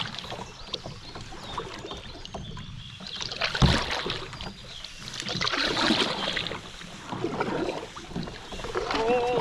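A canoe scrapes and splashes through shallow creek water during a creek regatta, with irregular paddle strokes, hull scraping and water noise up close, plus some wind noise.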